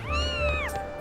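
A single drawn-out cat meow from The Legend of Zelda: Skyward Sword, a clear, close, rising-then-falling call with a steady electronic tone running underneath, no talking.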